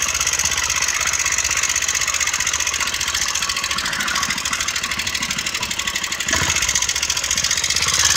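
A motorbike engine runs steadily while riding, a loud, close, continuous drone with an even pulse throughout and one brief thump partway through, with no voices.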